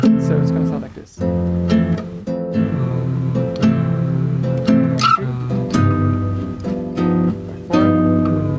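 Acoustic guitar strums the bossa nova chord skeleton of the A section of a song in a steady syncopated rhythm, close and clear, with a brief pause near the start and no voices.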